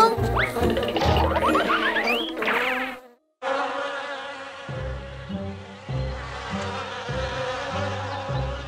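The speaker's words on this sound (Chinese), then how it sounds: "愤怒的蜜蜂" Cartoon bees buzz angrily, a dense, wavering whine that swoops and flutters over bouncy animated music, breaks off for a moment, then returns as a steady swarm hum.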